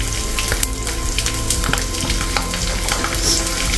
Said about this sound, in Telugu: కొద్దిగా ఇంగువ కూడా పోపులోనే వేసేసుకుందాం